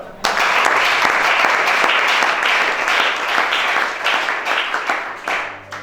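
Steady, loud applause from a church congregation at a deliverance worship service, thick rapid clapping that holds for several seconds before thinning out slightly near the end, with scattered voices underneath.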